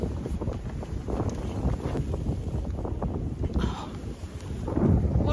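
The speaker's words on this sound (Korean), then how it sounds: "오, 여기 이제 바람 분다." Wind blows hard on the snowy slopes of Seonginbong on Ulleungdo during backcountry skiing, a loud continuous roar buffeting the microphone and gusting stronger toward the end, while a person speaks briefly.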